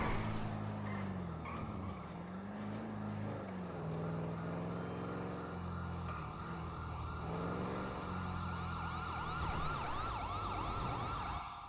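An ambulance siren in the GTA roleplay game wails continuously and loud throughout, its rising and falling tone sweeping over steady vehicle and engine noise.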